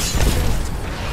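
A grenade blast in Apex Legends, a single loud booming burst with a heavy low rumble that fills the whole brief moment.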